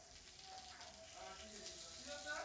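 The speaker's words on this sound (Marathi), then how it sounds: "तर हे एक साइडनी फ्राय झाले, तर आपण हे पलटून घेऊया।" Raw jackfruit cutlets fry in a pan with a steady, soft sizzle, a continuous crackling hiss that holds at an even level throughout.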